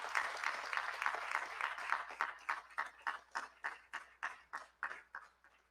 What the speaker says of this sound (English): stand and applaud all our students across the Caribbean